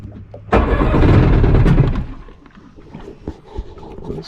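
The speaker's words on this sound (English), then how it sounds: "let's see if we can crank this thing up." An old jet ski engine that had sat for years cranks briefly, then catches with a loud burst of revving that lasts about a second and a half before dropping to a rough, sputtering idle, with no talking.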